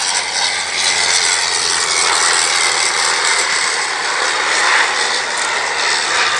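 A Sopwith Pup biplane's propeller engine drones steadily and loudly throughout at an airshow, a constant roar with a rough, buzzing edge and no voices.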